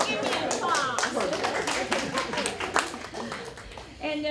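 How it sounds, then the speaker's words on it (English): Audience members clap during a university lecture introduction for a guest professor, scattered handclaps mixed with talking and room noise, uneven and moderately close rather than a full ovation. "Give me applause"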